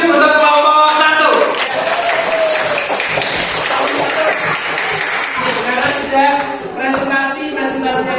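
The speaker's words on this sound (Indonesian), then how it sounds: "silakan beri tepuk tangan dulu untuk kelompok 1" Classroom applause for a student group, a dense burst of many hands clapping close by that continues for several seconds, with children's voices and a teacher talking over it.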